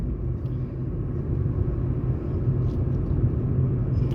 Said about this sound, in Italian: si sente anche dal rumore di fondo dell'auto